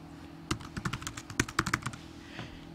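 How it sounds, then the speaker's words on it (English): Fingers typing on a computer keyboard at close range, a quick irregular run of crisp key clicks lasting about a second and a half, then one more tap. "we can type in our information"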